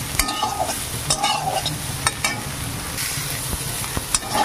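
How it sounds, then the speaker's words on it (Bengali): Soybean chunks fry in hot oil with a steady close sizzle, broken by sharp clicks and scrapes of stirring at irregular intervals. "সুন্দরভাবে সোয়াবিনগুলোকে প্রথমে এইভাবে ভেজে নিতে হবে"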